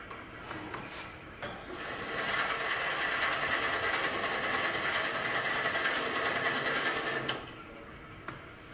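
Drill boring into a workpiece, a steady whirring, grinding drone that holds for about five seconds at close range, framed by lighter scraping and handling noises as the bit is backed out to clear shavings.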